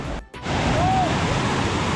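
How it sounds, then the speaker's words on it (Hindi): Strong rushing water from a river swollen by heavy monsoon rain near the Purnagiri temple on the India-Nepal border, a loud broad continuous roar that briefly dips at the start and then holds steady up close. "इसकी वजह से बहुत तेज़ पानी आ रहा है।"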